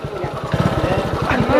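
A scooter engine putters rhythmically up close while people talk over it.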